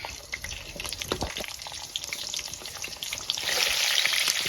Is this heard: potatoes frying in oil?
yes